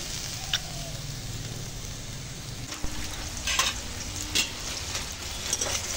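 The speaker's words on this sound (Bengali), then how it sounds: "করলাটা যে ছোট করে কেটে রেখেছিলাম ওটা তেলের ওপর দিয়ে দিয়েছি" Small-cut pieces of bitter gourd sizzle steadily in hot oil, being fried for a lentil dal, with a few sharper crackles and stirring clinks over the constant frying hiss.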